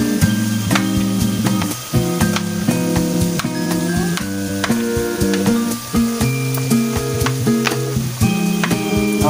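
Carrots hit a hot pan while cooking giniling na baka, ground beef with carrots and potatoes, giving a steady frying sizzle that runs throughout beneath loud background music.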